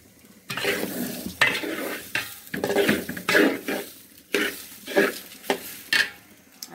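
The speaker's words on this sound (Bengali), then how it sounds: "এই যে পোলাও চাল ভাজছি।" Polao rice is stirred and fried in a pot with onions for a beef biryani: a run of rhythmic scraping strokes over a light, steady sizzle, close and fairly loud, with no talking.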